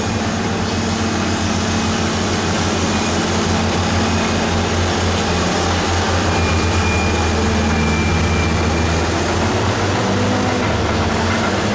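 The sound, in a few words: motor scraper engine running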